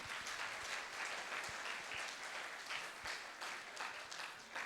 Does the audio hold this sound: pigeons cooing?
no